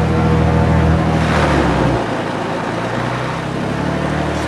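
Twin-engine Cessna 310Q piston aircraft on an engine run-up with the propeller being cycled, a loud steady drone whose pitch drops sharply midway and settles lower, heard close from inside the cockpit.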